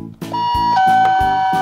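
A doorbell chimes clearly in a ding-dong pattern, ringing out over a steady, bouncy music bed with no talking.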